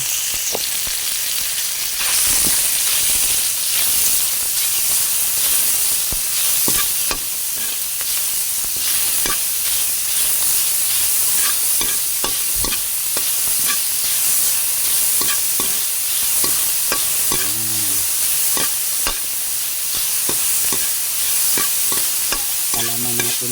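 Ground pork sautéing in a pan, a steady loud sizzle with frequent scraping stir strokes and occasional clinks throughout.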